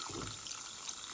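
Water pours into a pan of pumpkin curry seasoned with turmeric, red chili powder and salt, giving a soft, steady splashing wash close by with no talk over it.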